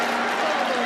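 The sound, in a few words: audience applauding at wheelchair curling match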